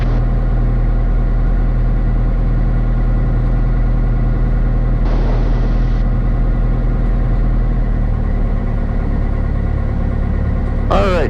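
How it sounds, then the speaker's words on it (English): A small plane engine idles steadily while warming up before taxiing, a loud, constant low drone heard from inside the cockpit. Brief cockpit sounds break in near the middle and at the end. "that'll help us warm the engine up now"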